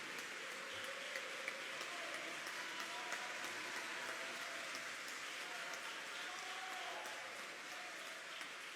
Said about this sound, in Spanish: Aquí hay una verdadera guerra de aplausos.